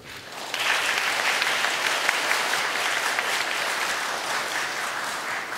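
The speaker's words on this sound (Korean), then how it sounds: "큰 박수로 환영해주시기 바랍니다." An audience at a university entrance ceremony breaks into loud, continuous applause to welcome honored guests. Dense clapping starts abruptly and holds steady to the end.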